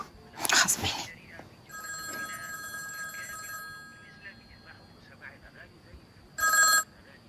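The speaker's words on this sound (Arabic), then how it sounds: "نوضي بعدا جاوبي على التليفون" A telephone rings indoors in a Moroccan film scene: one short electronic ring burst, then a longer ringing stretch, and a final short burst after a quiet pause, with faint murmured voices underneath.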